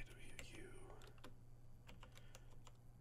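Quick, faint computer-keyboard keystrokes clattering in irregular bursts, close up, with a bit of soft speech or whispering mixed in early on.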